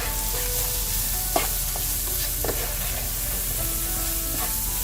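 Red potatoes and nopalitos sizzle steadily in a frying pan with turmeric and salt, broken by a few scraping stirs of a spoon across the pan, with no talking.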